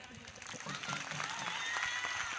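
A church congregation at a live prayer service claps hands in a steady patter of applause while a voice speaks loudly over it.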